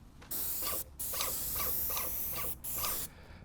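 A paint sprayer blows stain onto a fence at turned-down pressure, giving steady close hissing bursts that cut off briefly twice, with a faint rhythmic mechanical ticking under the spray.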